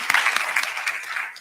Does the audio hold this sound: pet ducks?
no